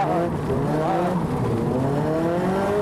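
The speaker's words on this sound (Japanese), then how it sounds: "まずは春口曰く普通のドリシャでお手並み拝見。" A lowered drift car drifts, its engine droning with rising and falling pitch as the revs change and the tyres squeal, loud and continuous the whole way through.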